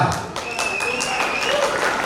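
Audience applause at a Tamil cultural gathering, a steady wash of clapping filling the short moment with a whistle-like tone running through it, moderately loud and continuous.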